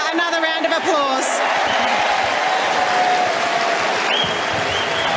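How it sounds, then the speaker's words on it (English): A crowd at the 2023 Australian Open applauds Aryna Sabalenka, sustained loud clapping with a few whoops and cheers filling the arena while a voice talks over the start. "Ladies and gentlemen, please give Aryna Sabalenka another round of applause"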